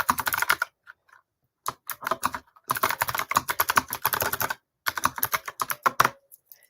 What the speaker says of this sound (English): I am bringing out my fun keyboard today, which makes all kinds of clacky fun noises